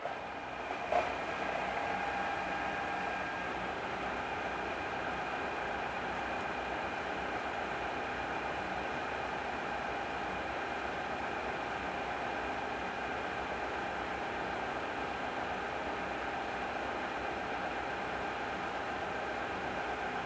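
Car engine pulling steadily in fourth gear, a constant droning hum with steady tonal whine and road noise, moderately faint and unchanging throughout.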